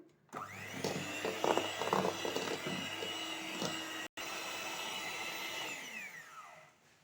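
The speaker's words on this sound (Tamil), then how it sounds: "இப்போ நல்லா ஸ்பீடு ஃபுல்லாக வச்சு நல்லா பீட் பண்ணிக்கோங்க, ஸ்டிஃப் பீக் வர அளவுக்கு" An electric hand mixer runs at full speed beating cupcake batter toward stiff peaks, a loud steady motor whine with rattling, briefly cutting out and restarting before slowly winding down.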